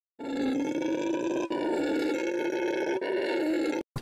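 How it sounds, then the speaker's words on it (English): Howler monkeys give a continuous, deep roaring howl that swells and holds, close and loud, with no talk over it. "the sound of howler monkeys going"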